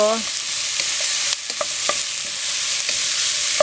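Shiitake mushrooms sautéing for sotanghon soup give a strong, close sizzle, with repeated spatula clicks and scrapes as they are tossed in the hot pan.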